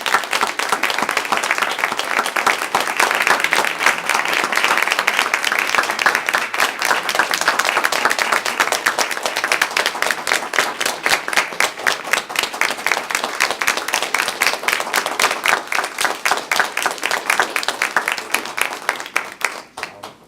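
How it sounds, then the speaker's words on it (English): Steady, dense applause from a panel discussion audience, many hands clapping together near and loud for about twenty seconds before thinning out at the end. "Can we just give everyone on the panel another round of applause?"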